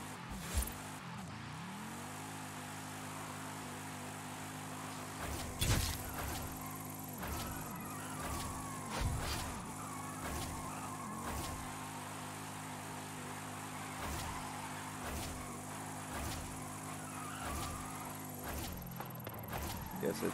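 Old-school Chevy Impala drift build in Forza Horizon 5, its engine droning at a steady high pitch with tire screech and shifting revs through a long drift, while someone talks over it throughout.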